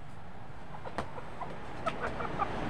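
A fighting cock clucking with short, sparse calls over a steady background rumble, moderately distant.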